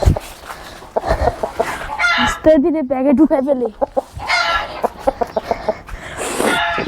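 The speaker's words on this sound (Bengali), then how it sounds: "অনেক বড় মুরগি" A large chicken clucking in short bursts with a warbling squawk in the middle, close by, while a voice talks over and between the calls.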